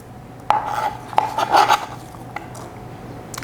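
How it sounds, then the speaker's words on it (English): Small chopped apple bits scraped off a cutting board with a small knife and dropped into a bowl, giving a few sharp clinks and scraping rubs close by with quiet pauses between. "now I'm going to put them into this bowl"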